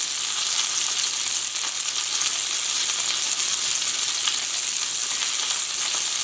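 A cod fillet fries in a pan with a steady, dense, close sizzle and crackle that holds level throughout, with no talking.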